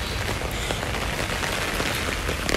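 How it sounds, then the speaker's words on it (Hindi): Steady rain pours down outside as someone heads downstairs, a dense, continuous hiss of drops hitting surfaces close by, with no talking. "बारिश हो रही है."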